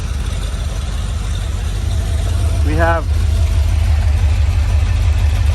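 Rover 4.0 V8 carbureted engine idling steadily on an engine stand, a loud even low rumble throughout, with someone speaking briefly over it.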